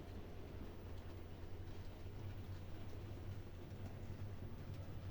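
A Mehano 462 Prairie model steam locomotive with a modern motor pulls a rake of box vans along the track, giving a faint, steady low hum and rolling rattle.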